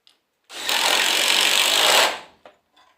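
Power driver sinking a 5/16 by 1.5-inch lag screw through an 8-inch zinc-coated T-style hinge into a wooden gate, one loud sustained burst of about a second and a half, close up, followed by a brief clunk.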